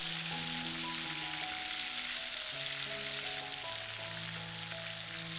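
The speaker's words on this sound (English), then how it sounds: "We cover the pan with the mesh lid again and continue frying the fillet until done." A chicken fillet fries in a pan covered with a mesh lid, giving a steady, dense sizzle and crackle throughout, with sustained musical tones running underneath.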